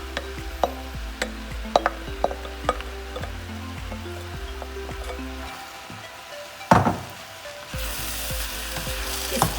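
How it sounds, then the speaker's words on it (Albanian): Diced eggplant fries in a pan with a steady, close sizzle, punctuated by sharp clicks of a utensil as it is stirred. "Tani në këtë moment bëjmë hedhjen e partizanit të zi, pra që I kemi gryer në kubik."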